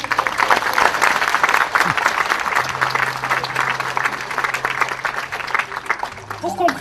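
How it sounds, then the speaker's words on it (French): An audience claps steadily to honour volunteers at a civic ceremony led by the mayor of Aubigny-sur-Nère, a small town in central France. The dense applause holds for the full length at an even level, with no break. "Je vous demande de les applaudir."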